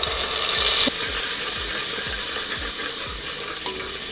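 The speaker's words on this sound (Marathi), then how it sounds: "तेल गरम झालं की यामध्ये तयार करून घेतलेली मिरचीची पेस्ट घालायची" Chili paste drops into hot oil for chicken rassa curry, giving a loud hissing burst that settles into a steady sizzle with repeated spoon scrapes and stirs.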